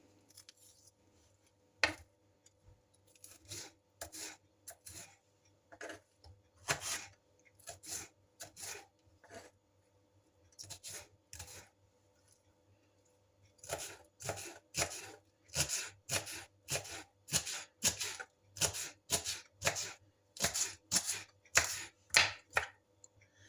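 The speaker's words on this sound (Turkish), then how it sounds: "Ve şimdi aynı şekilde biberi de doğruyorum." A knife chops a deseeded Charleston pepper on a cutting board in a home kitchen, in quick rhythmic bursts of crisp taps that come in short runs with pauses between, close and clear, with no talking.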